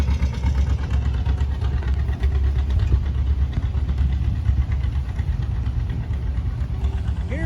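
An old Massey Harris tractor engine idles at an outdoor expo in Pontiac, Illinois, a steady low rumbling chug that runs evenly throughout, heard close with no clear talk over it.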